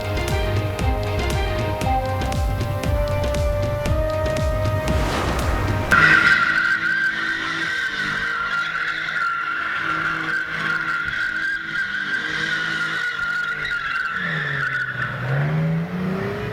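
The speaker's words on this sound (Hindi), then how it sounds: "इस्लामाबाद में जिना एवेन्यू पर कार ड्रिफ्टिंग।" A car drifts on Jinnah Avenue in Islamabad, its tires skidding and squealing in a long continuous screech over a steady engine roar. The sound is loud and close, with sliding pitch changes as the car swings through its turns.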